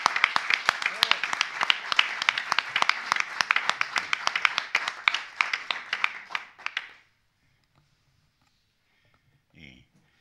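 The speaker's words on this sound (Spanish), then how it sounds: "Por favor, un aplauso." A literature festival audience in Madrid claps for poet Antonio Gamoneda, a lively burst of many hands with sharp distinct claps that stops abruptly after about seven seconds, leaving near silence with a faint brief sound near the end.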